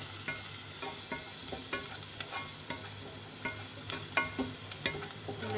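Spices, cinnamon powder and paprika, being stirred in a frying pan for spiced tofu: a steady low sizzle with a series of light scraping strokes spread through, close by and fairly quiet, no talking.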